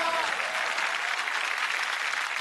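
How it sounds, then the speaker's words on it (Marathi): A studio audience gives a band on a Marathi TV music show loud, dense applause that holds steady throughout without a break. "एकदा आपल्या मंडळाच्या बँडसाठी जोरदार टाळ्या होऊन जाऊ द्या."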